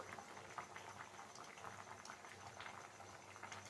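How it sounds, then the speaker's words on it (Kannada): Masala curry with prawns and Malabar spinach bubbling in a pot: a faint, steady simmering burble with soft popping, continuous and close, with no voices over it. "ನೋಡಿ, ಮಸಾಲೆ ಎಲ್ಲ ಕುದೀತಾ ಇದೆ."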